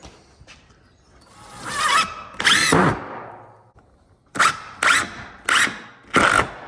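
A power drill driving screws into pallet rack shelving in a workshop: two longer whirring runs, then four short, sharp bursts in quick succession, loud and close.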